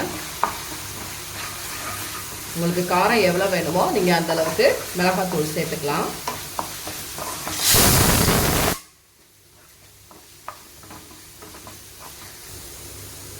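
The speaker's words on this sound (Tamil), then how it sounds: "இப்போ இது எல்லாத்தையும் நல்லா வதக்கிக்கோங்க" Masala for a dry peas curry sautés in a pan, sizzling steadily under a woman's speech, then a loud burst of hissing rises before the sound drops to a quieter, crackling sizzle.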